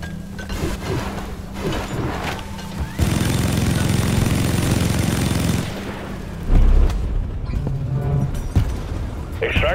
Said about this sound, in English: Drill dozer running at full steam.